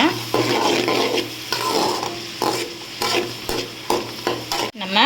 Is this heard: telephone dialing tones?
no